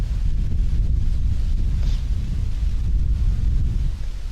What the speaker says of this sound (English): Got about a 9-mile-an-hour wind out of the northeast.